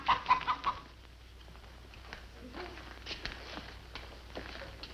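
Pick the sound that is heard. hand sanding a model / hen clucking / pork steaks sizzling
hen clucking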